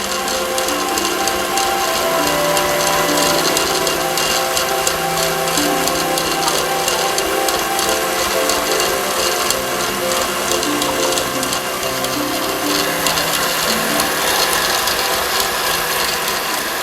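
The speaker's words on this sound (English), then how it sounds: "I'm going to start beating my heavy whipping cream, and then I will add my sugar to this once it starts to thicken" An electric mixer beats heavy whipping cream with sugar, a steady loud mechanical whirring with a geared, ratcheting buzz that runs unbroken throughout.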